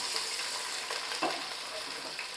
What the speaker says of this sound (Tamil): இதை நம்ம நல்லா வதக்க ஆரம்பிச்சிருவோம் நல்ல கோல்டன் ப்ரௌன் கொண்டு வரணும்